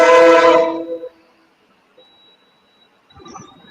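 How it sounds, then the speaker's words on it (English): A passing train sounds its whistle, heard as a loud, rich horn blast that cuts off after about a second, followed by quiet with faint distant tones. "Well, now that's a loud whistle."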